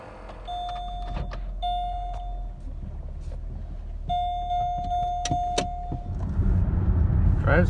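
A 2005–2007 Chevy Malibu on the road, heard from inside the cabin: a steady low engine and road rumble with a sustained tonal whine rising and falling, occasional clicks, and no talking.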